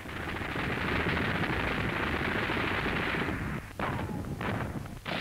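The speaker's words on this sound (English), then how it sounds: "A wounded soldier is brought back under heavy enemy machine gun fire." Heavy enemy machine gun fire on a WWII battlefield during the German offensive against Belgium, Holland and France, a loud, sustained, dense stream of rapid bursts with a brief break near the end.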